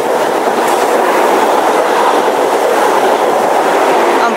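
A Class 43 high-speed train passes at speed along the line at Dawlish, a loud, close, continuous roar of wheels and engine with a steady rumble throughout.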